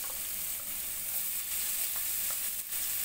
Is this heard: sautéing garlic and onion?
yes